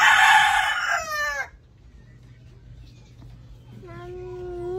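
A rooster crows loudly and close by in a village barnyard. After a short quiet gap, a second long, tonal crow rises over faint background rumble.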